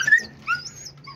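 A new Malinois puppy whimpers and yips in short, high, wavering cries, close and fairly quiet, with soft gaps between the whines.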